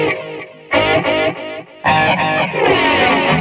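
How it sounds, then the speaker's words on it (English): Distorted electric guitar run through an Echoplex-style delay on a BOSS eBand JS-10, loud chopped chord bursts with short gaps, then a longer sustained chord with repeats trailing behind. "that delay emulates the Echoplex that he also used back in the day"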